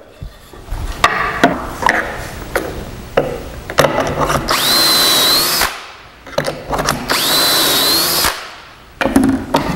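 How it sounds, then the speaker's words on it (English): A power drill bores pocket holes in wood using a Kreg Jig, with two sustained whining runs among clunks and handling knocks of the workpiece, loud and near. "Now that all my holes are drilled"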